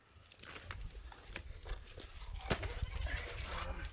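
Goat bleating faintly nearby in a farm setting, a few wavering cries over a rustling outdoor background.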